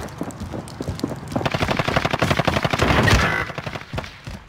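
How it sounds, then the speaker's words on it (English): Gunfire in Call of Duty Warzone crackles in rapid automatic bursts, dense and close, swelling into a sustained volley with a sharp loud report near the end before tapering off. "I'm getting sniped from a long ways off."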